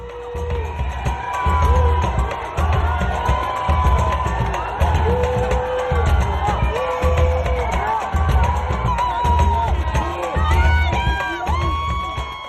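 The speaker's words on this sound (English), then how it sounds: "about 500 fans gathered outside as the bus made its way along the street. Some had come to cheer" A crowd of about 500 football fans cheers outside the Brazilian national team's hotel as the team bus passes along the street, a loud, sustained roar with whoops and shouts rising and falling throughout.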